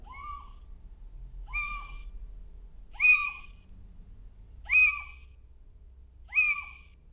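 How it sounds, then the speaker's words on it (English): A little owl gives a repeated screechy, yelping call, five times at steady intervals, thin and fairly distant over a quiet low rumble. "a little owl, and they make another quite screechy sort of sound"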